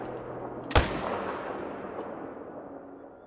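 A single loud rifle shot cracks up close in the hunting video game Call of the Wild during a wild boar hunt, followed by a long, fading echo across open terrain.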